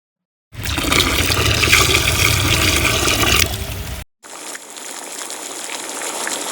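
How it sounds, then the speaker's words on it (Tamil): Water gushes loudly and steadily into a large cooking pot while a chicken biryani with seeraga samba rice is being prepared, stopping abruptly before a second, thinner pour follows. "இப்ப தண்ணி ஆட் பண்ணிக்கலாம்"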